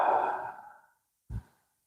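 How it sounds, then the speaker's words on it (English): Slow, deep breathing during a guided Reiki relaxation: a long, soft exhale fading over about a second, a pause, then a short breath, close and quiet with no talking. "Deep breath in and a deep breath out."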